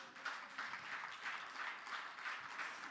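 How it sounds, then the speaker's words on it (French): A church congregation applauds in praise of the Lord, a steady wash of many hands clapping, fairly distant and soft, continuing without a break. "Acclamez un peu le Seigneur."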